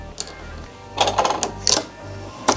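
A Brother 1034D serger is switched on and runs in short, near bursts of fast mechanical stitching, a few quick clattering runs with brief pauses between them.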